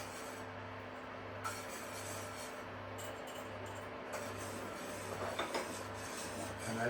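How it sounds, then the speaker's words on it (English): A tiny whisk rubbing and scraping rhythmically in a pan of sauce thickened with arrowroot and water, a soft steady scratching with small clinks, heard alone over a low hum. "I'm just going to whisk that into our sauce"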